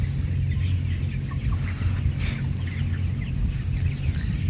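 Chickens in a crowded poultry house, flock fed on a turmeric and temulawak herbal mix, give scattered clucks and calls over a steady low fan-like hum, continuous and fairly loud with no talking.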